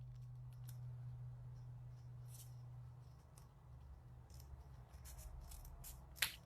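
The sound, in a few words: scissors cutting folded paper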